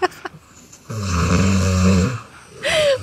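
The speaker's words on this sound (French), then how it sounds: "mon daron arrête pas de ronfler et je n'arrive pas à dormir" A man snores at night with one long, loud, rattling breath in the middle and a rising nasal snort at the end, heard close with no talk.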